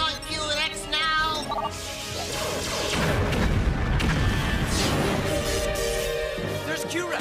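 Q-Rex, the Power Rangers Time Force robot, firing its weapons in battle: loud booming blasts and crashing impacts that build into a dense, sustained barrage.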